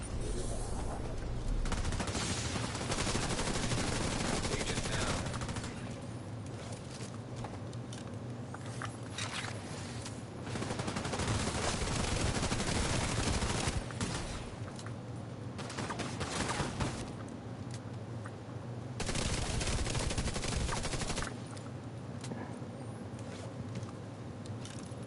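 Sniper fire in a Division 2 PvP match comes as bursts of loud gunfire and fusillades across a busy, continuous game soundscape, with a voice talking faintly underneath.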